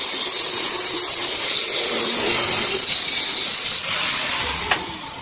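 A grinder runs steadily with a loud, bright hissing whine, apparently during repair work on a motorcycle sidecar, briefly dipping near the end.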